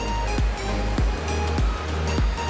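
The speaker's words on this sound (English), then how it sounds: "the waves are pretty big" Ocean surf rolls in around a small inflatable rubber boat with a gasoline outboard, heavy continuous wash with repeated low thumps of waves slapping the hull, close and loud throughout.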